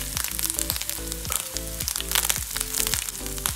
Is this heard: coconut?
yes